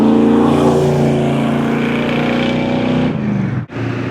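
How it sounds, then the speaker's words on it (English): Loud cars and big trucks roar past near Big Stone Gap in the Appalachian Plateau, a close, continuous engine rush that briefly dips before picking up again. "they have really loud cars"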